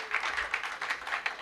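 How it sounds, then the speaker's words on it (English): Audience applause at the finals of a national insurance debate, a brief steady wash of many hands clapping in a hall, moderately loud and continuous. "Let's clap for them"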